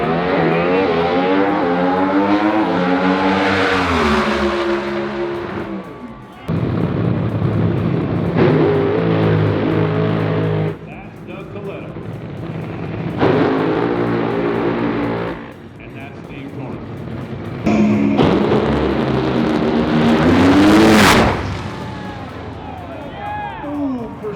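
Loud top fuel dragster engines roar and rev in repeated bursts at an NHRA drag race, with a voice talking over the din between runs.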